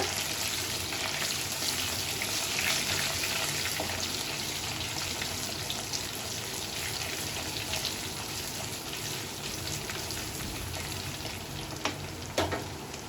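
Steady sizzling of dried red chillies and garlic frying in hot oil, a dense crackling hiss throughout with a few sharper pops near the end, no voices.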